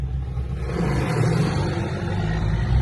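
A dump truck engine rumbles and revs steadily, a loud, continuous low-pitched roar close by with no speech over it.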